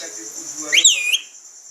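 A pet parrot whistles a single clear rising-and-falling note, loud and close, over a steady high background hum.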